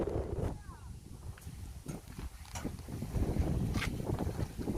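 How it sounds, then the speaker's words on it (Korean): Strong gusty wind buffets a camping site with a tent and wind guard, making low roaring rumble and microphone buffeting throughout, with faint rustling and a few brief sharp knocks. "바람이 좀처럼 잦아들지를 않아요."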